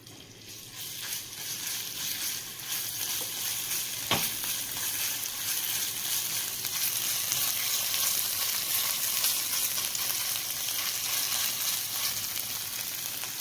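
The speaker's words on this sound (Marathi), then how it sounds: "तेल तापलं की आपण ह्यामध्ये घालूया जिरं, की यामध्ये आपण घालूया हिरवी मिरची, आलं आणि लसूणचा ठेचा" Cumin seeds, green chilli and crushed ginger-garlic paste frying in hot oil, a steady, moderately quiet sizzle that continues throughout with no talk.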